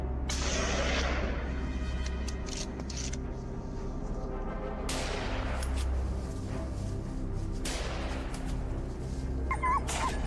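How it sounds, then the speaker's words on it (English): A pack of hunting dogs on a wild boar hunt barks wildly and continuously outdoors at night, the loud overlapping yelps and bays running throughout over a dense, noisy background. "The hunting dogs bark wildly, hot on its trail."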